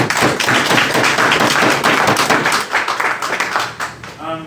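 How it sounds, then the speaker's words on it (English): Seminar audience applause on home ownership, a dense burst of clapping with some sharp taps, fading toward the end as a voice begins. "We'll give Rajiv a round of applause."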